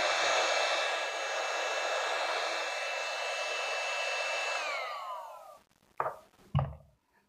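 A heat gun blows steadily while heating heat shrink tubing on a Pakula 60 degree shackle rig, a continuous close whooshing roar that stops after about five seconds, followed by two sharp knocks.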